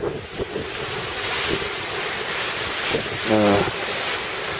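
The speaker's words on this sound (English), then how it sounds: "That was a big gust." Strong Hurricane Maria wind gust on St. Croix, September 2017, roars and buffets the microphone in a continuous rushing blast, surging louder near the end, with no one speaking.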